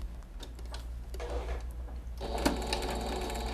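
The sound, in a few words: sewing machine stitching a mustache pillow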